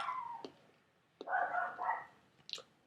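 A dog that is kept in a cage at night gives a few short, sharp sounds, then a longer yelping burst, then another brief cry. It is fairly close and has no talk over it.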